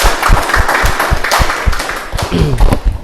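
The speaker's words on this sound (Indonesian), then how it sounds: "Sekali lagi beri tepukan kepada" Guests applaud the father at a marriage registration ceremony. The clapping is loud, dense and close, made of rapid sharp hand claps mixed with speaking voices.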